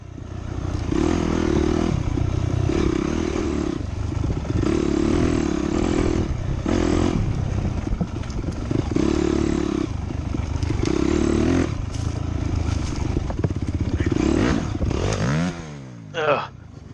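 A dirt bike races at a hare scramble, its engine roaring loud and close and surging through repeated rev cycles, with clattering over rough terrain and a voice talking over the engine.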